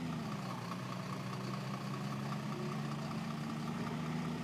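A Volvo FMX dump truck's diesel engine runs at a steady, low rumbling idle, heard continuously at a moderate distance with no voices.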